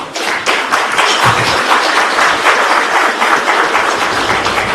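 An audience applauds at a formal regional state address, with dense, continuous clapping that holds steady and loud from start to end.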